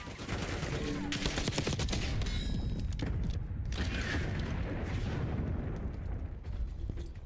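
A battle in Black Ops 6, a dense crackle of gunfire and sharp impacts from an enemy grenade attack, heavy continuous combat noise with brief bursts standing out, and faint voices in the mix.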